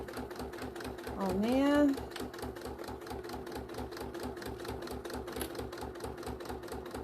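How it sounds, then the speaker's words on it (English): Sewing machine stitching down a narrow 1/8-inch seam on a small mini bag, a steady rapid mechanical rhythm running throughout, close and loud, with a short spoken remark and a rising voice-like tone near the start. "I'm literally just going to stitch down that 1/8 of an inch all the way down"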